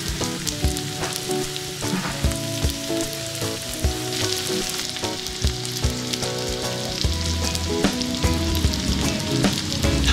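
Bangus (milkfish) sisig sizzles hard on a hot plate, a steady crackling hiss with a little stirring, continuous and close, with no voices.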